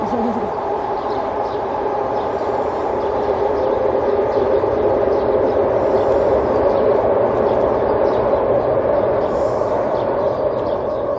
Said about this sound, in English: Waiting for this train to stop.